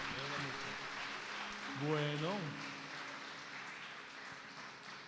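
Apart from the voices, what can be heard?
church congregation applause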